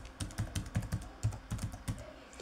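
Steady run of keystrokes on a computer keyboard while entering text into an Excel spreadsheet, a string of close, crisp taps at a quick irregular rhythm with no talking.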